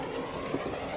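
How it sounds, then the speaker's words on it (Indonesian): Passenger train rolling along a railway toward Ahmedabad, a steady low rumble with faint clatter, heard alone and briefly. "Aditya mengikuti Tara menuju Ahmedabad dengan menaiki kereta api."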